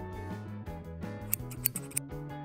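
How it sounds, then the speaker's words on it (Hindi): Scissors cut a rectangle of fabric for a homemade face mask: a few short, crisp snips cluster in the second half, heard under steady background music. "टेम्पलेट का इस्तेमाल करके कपड़े से एक रेक्टेंगल काटें।"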